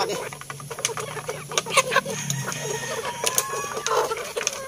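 Chickens clucking in a yard, scattered short clucks and chirps overlapping with clicking noises and a low murmur of talk beneath.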